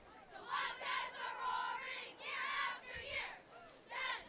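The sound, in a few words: cheer team hollering at a football game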